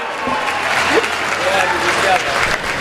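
Audience applause at a kavi sammelan and mushaira poetry gathering in Lalganj, Pratapgarh: dense, sustained clapping from a large crowd, steady and loud for the whole stretch, with faint voices rising through it.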